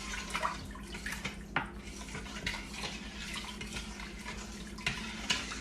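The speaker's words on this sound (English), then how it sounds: "And I'm just gonna give that a stir." Chicken and beef broth stirred in a hot soup pot: a steady, close liquid swirling and sloshing with occasional light clinks of a spoon against the pot, no talking.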